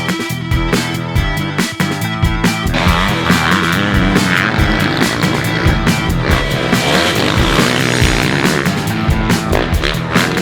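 A 2023 KTM SX-F motocross bike ridden at RedBud, its engine revving loud and steady throughout with rising and falling pitch as it works the throttle.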